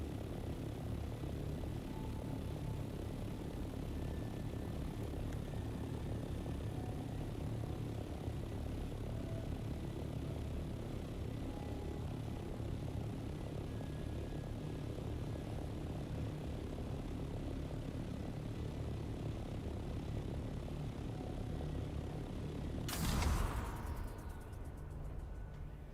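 Aircraft in flight in the game Dune Awakening, a steady, loud engine drone that holds evenly throughout, with a brief louder rush near the end; no talking.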